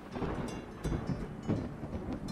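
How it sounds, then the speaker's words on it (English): Thunder rumbles low and broad, rolling in uneven surges with no voices. Heavy, close-sounding storm noise fills the whole stretch. "It's thundering."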